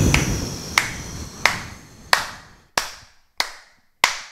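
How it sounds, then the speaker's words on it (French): A single person claps slowly and deliberately, seven sharp, close hand claps spaced evenly about two-thirds of a second apart, each ringing out briefly into a quiet room. "J'applaudis encore une fois, bravo."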